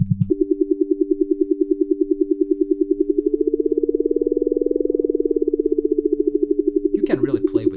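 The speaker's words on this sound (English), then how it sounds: "This might create a lot of cool drone-like buzzing sounds." A steady, higher-pitched additive synthesis drone built from stacked harmonics in Max/MSP, holding a continuous buzzing tone that swells slightly in the middle before a brief burst of other noise at the end.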